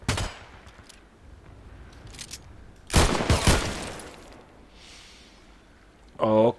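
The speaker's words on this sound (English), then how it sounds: "he's shooting through the container" Gunfire in the Contract Wars shooter game, fired through a shipping container: a loud cluster of broadband shots around the middle, with scattered quieter reports before and after, and a voice at the end.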